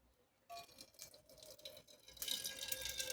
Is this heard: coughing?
no